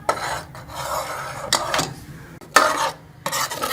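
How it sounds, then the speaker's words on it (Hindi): Green chilli sauce being stirred in a pan, with a utensil scraping the metal in uneven bursts of rough, rasping strokes separated by short pauses, close and moderately loud, with no talking. "साथ इसको हिलाते जाएंगे।"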